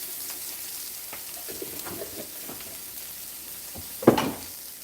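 Food frying in coconut oil for a jerk salmon bowl, a soft steady hiss with faint crackles, then a brief louder sizzling burst near the end.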